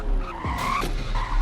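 Tires skid hard as a car brakes during a braking test in the Greenville racing game, a loud, continuous screech with a whining squeal that rises and falls over about a second and a half.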